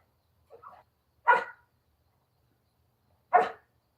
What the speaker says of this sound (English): he'll bark and he'll wake everybody up in the house